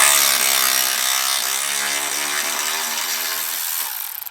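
A power tool runs steadily for about four seconds, close and loud, a buzzing mechanical drone as it works off a rusty 10 mm radiator bracket bolt on an Acura TL (2004-2008).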